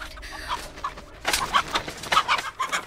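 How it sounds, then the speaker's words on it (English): A chicken clucks repeatedly in the Texas Chainsaw Massacre video game, close, sharp clucks in an uneven rhythm that grow busier and louder after a short quiet start, with no talking. "Shut up, you dumb chicken."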